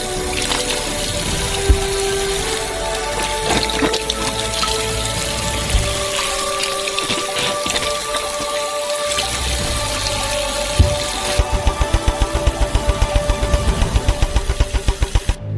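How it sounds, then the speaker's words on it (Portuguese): Tap water runs and splashes into a sink as oranges are washed, giving a steady close hiss with knocks and clatter, then a rapid rhythmic rattling near the end. "Despejamos as laranjas na pia. Enchemos elas com água"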